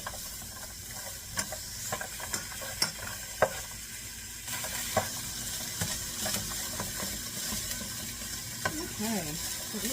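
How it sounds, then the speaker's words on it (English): Carrots stirred in avocado oil in a pan, a soft steady sizzle under repeated scraping and clicking strokes of a utensil, fairly quiet and close. "So let's keep stirring for a minute to make sure it gets nice and coated"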